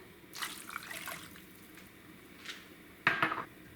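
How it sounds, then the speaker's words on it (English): Hot water is poured into a cooking pot holding vegetables, heard as faint splashing and liquid noise with a few quiet clinks of cookware, ending in a brief louder splash. "Add 2 cups hot water"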